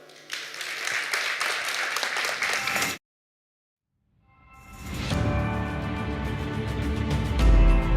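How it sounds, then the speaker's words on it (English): Audience applause at a school event, a crowd clapping steadily for about three seconds, then a short silence before a second, louder and denser burst of clapping that keeps going to the end. "So a round of applause to her."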